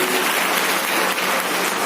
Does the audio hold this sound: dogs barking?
no